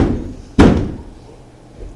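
A single heavy thud of a fist pounding on a wooden gate door in a staged porter scene from Macbeth, sharp and close, with a booming tail that fades away into quiet room ambience.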